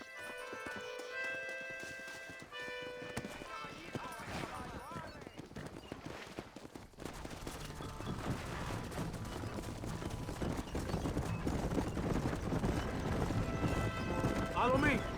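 Horse hooves pound in a quickening gallop amid video game sound effects and music from Red Dead Redemption, growing louder and busier, with voices talking over them.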